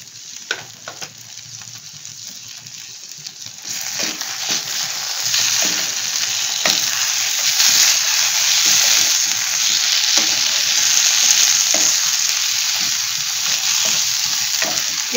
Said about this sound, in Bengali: আমি একটুখানি আমুল বাটার সবার লাস্টে দিয়ে দিচ্ছি